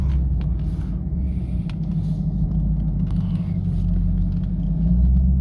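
A Chevrolet Camaro ZL1, sixth generation, driving on roads around Arlington, heard from inside as a steady low engine and road rumble that holds even and fairly loud throughout.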